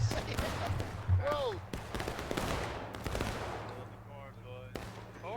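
Rapid gunfire bursts and single shots crack through a historical battle video game during a Conquest event, dense and close at the start and then more scattered, with player voices over the fighting.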